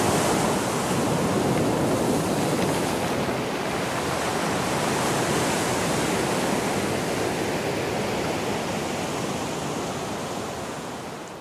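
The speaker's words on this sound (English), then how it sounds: "the coast faces an ocean that can be dreadful when the swell is very strong" Ocean swell breaks against the volcanic rock coast of the Canary Islands, a loud, continuous wash of surf and spray with no distinct pauses, heard alone.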